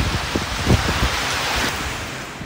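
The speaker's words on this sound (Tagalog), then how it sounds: "Ramdamang malakas na hangin na may kasamang pag-ulan sa Batanes kaninang umaga." Blustery wind roars continuously with a broadband rushing noise, rain mixed in, loud and close with some gusty thumps on the microphone, from Typhoon Gorio's storm weather in Batanes, Philippines.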